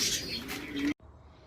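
Young homing pigeons, a pair of sibling squabs just received by their new owner, coo steadily and close up for about a second before the sound cuts off abruptly, leaving faint background hiss.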